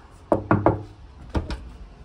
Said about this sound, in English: We're gonna walk up and knock on this front door